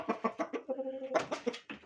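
A hen living in a cage alongside a young Anatolian shepherd puppy, giving a quick run of soft close clucks around a drawn-out middle note, faint and alone.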